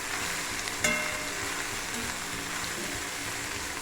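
Dried anchovies frying in a kadai over medium flame, a close, even crackling sizzle that runs throughout with one brief clatter near the start.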